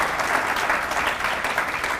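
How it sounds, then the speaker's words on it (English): Sustained applause for the Leadership Hayward class at a State of the City event, a dense, even crowd of clapping hands at close range with no talk over it. "So let's give the Leadership Hayward class a big round of applause."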